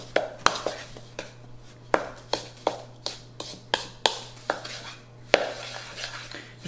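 A spoon stirs thick, dry two-ingredient low-calorie cookie dough in a bowl, making about a dozen close, sharp knocks and scrapes in an uneven rhythm with no talking.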